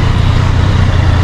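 A Yamaha XSR900 motorcycle engine runs steadily, a loud, continuous low rumble with no breaks and no voices.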